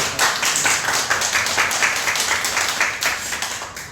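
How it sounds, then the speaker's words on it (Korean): A church congregation claps together in welcome during a Sunday service, a steady wash of many hands close by that carries on for the whole stretch with no voices over it. "우리 다 같이 박수로 우리 환영의 박수를"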